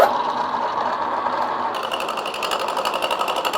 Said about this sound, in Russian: И вот теперь можно включать станок и начинаем обрабатывать дерево